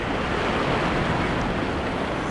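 Ocean waves break in shallow surf on a rough fishing day off the New Jersey coast, a constant loud wash of roaring surf and wind without a break.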